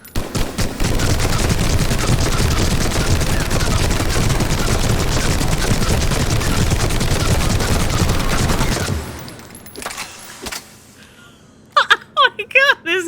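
A large gun fires a sustained, loud, dense burst for about nine seconds, then cuts off, followed by a faint tail and a voice speaking.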